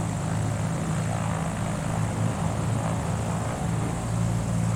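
Propeller airplane engine in Microsoft Flight Simulator 2020 drones steadily with a loud, even hum and low throbbing tones, holding constant without a break.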